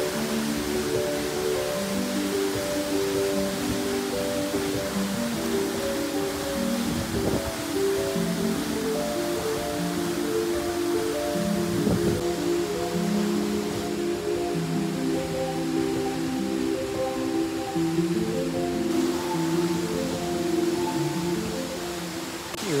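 A waterfall on Camiguin Island pours in a continuous rushing wash, heard up close and alone, with a faint shifting tonal layer underneath and no speech.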